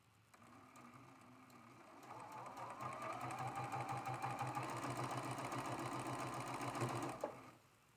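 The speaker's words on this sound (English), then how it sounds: "I'm going to sew those." A sewing machine stitching quilt block seams, running in a fast, steady whir for about five seconds before stopping with a click, heard close up.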